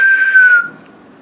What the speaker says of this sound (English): Conductor blew his whistle